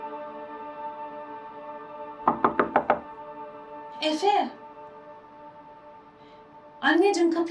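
A run of five quick, sharp knocks on a door, close and clear in a quiet room with a steady hum, followed by voices speaking briefly afterward.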